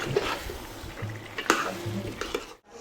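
Tomatoes go into a pan of chicken curry, producing a continuous sizzle and fry with stirring scrapes and a sharp utensil clack, then a brief drop to near silence.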